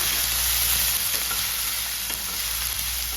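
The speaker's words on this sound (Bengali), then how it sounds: "আলুগুলো ভাজছি।" A dense, steady sizzle of small diced potatoes frying fills the whole stretch, loud and close, with faint scraping from stirring in the pan.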